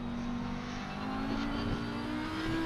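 Race car engine in a sim racing game at the Nürburgring, a steady loud drone with a sustained tonal whine that rises slightly in pitch as it revs, running continuously close up with no talk.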